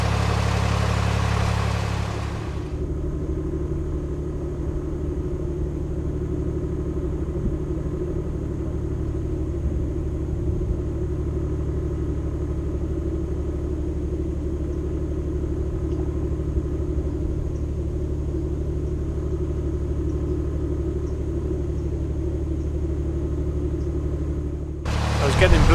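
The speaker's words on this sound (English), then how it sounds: "I love the sound of those old engines." Old narrowboat engine chugging on an English canal, a low steady diesel rumble and throb heard close and continuous, with a louder burst of wind or movement at the start and end.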